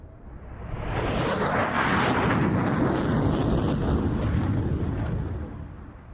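Ramex Delta jets of the French Air Force sweep past at high speed, a loud broad roar that swells over about a second, holds steady, then fades away, with wind buffeting underneath.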